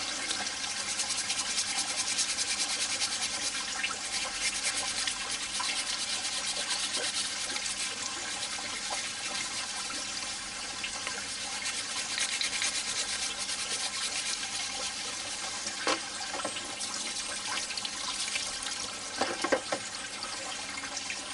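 A brush scrubs grime out of a magnet fishing fin, a steady close rasping rub that runs continuously for the whole stretch, with a few sharper scrapes near the end and no talking.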